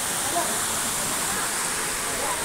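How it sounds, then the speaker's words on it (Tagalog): River water flowing at the Talon River in San Jose, Batangas, a steady dense rushing wash close by with no breaks, and a voice speaking over it. "Tapos ito, nakakita ulit tayo ng ilog."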